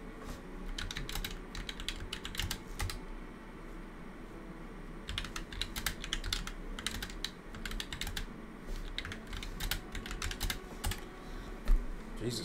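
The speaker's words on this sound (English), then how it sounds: "it's a whole lot of typing, a whole lot of text" Computer keyboard typing in bursts of rapid clicks, moderately close, with short pauses around four to five seconds in, over a faint low background hum and no talking.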